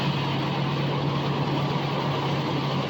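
A truck engine runs steadily, giving a constant low rumble with a hum that neither rises nor falls, and no voices over it.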